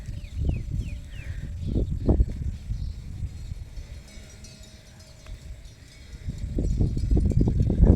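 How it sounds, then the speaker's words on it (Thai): Wooden bells hung on water buffalo clonk in loose, irregular knocks, louder at the start and again toward the end, with a quieter stretch in between and no talk. "มีแต่เสียงกระลงควาย"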